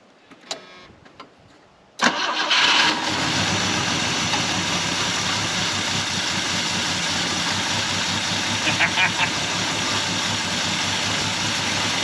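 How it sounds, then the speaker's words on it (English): A 50-year-old Volvo 164E engine, unstarted for 20 years, cranks and catches after a brief quiet, then settles into a loud, steady rough idle that continues to the end. "go ahead and try to start it."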